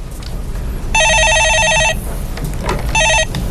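A telephone rings in two electronic bursts, one long and one shorter, on a Korean stock-market call-in broadcast where a viewer phones in. Low studio room noise sits underneath, with no talk over the rings.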